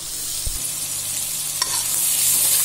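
Masala being stirred and fried in a pan for Punjabi dum aloo, a steady close sizzle with a few soft scraping stirs and a brief knock, no talking.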